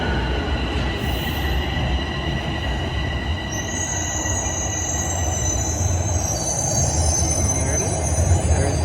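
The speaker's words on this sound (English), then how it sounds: "There's the northbound train. There's the southbound train." A TTC subway train rumbles and its wheels squeal while passing through Highway 407 station, a steady close roar with a rising high-pitched screech in the second half; a person speaks briefly.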